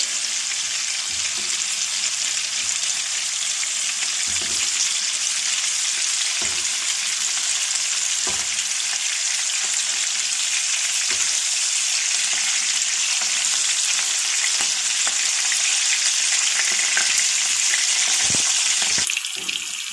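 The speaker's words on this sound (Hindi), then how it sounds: "अब हम हल्का हल्का इनको 2-2 मिनट दोनों साइडों से फ्राई करेंगे।" Chicken koftas fry in a pan, producing a loud, dense, continuous sizzle with scattered crackles and occasional soft knocks throughout.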